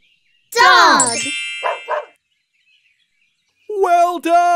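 Cartoon dog barking in a preschool animal learning show: one drawn-out yelping bark followed by two short barks, loud and close, then a voice speaks at the end.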